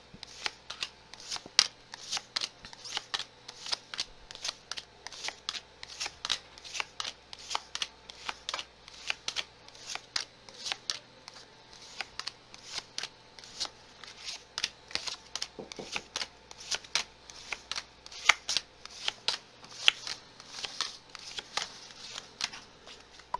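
A deck of tarot cards is shuffled over and over for about twenty seconds, a close, crisp riffling and flapping in quick irregular bursts with brief pauses, and no talking.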